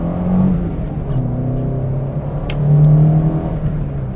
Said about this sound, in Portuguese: o som desse carro é muito legal. Ele é um som mais baixo, logicamente, mas esse motorzinho